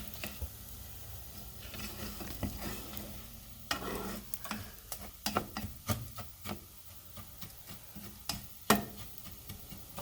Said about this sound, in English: we will keep letting this cook, and we'll keep occasionally stirring it.